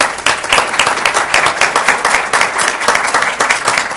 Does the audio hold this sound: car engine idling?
no